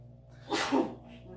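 A single sharp sneeze bursts out close by against a quiet room, brief and forceful with a short intake before it.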